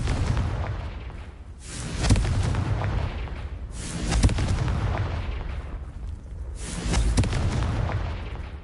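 Three booming blasts from the Confringo fire spell in the Hogwarts Legacy video game, each a heavy explosive burst that rolls off into a rumbling tail, spaced about two to three seconds apart over continuous low game noise.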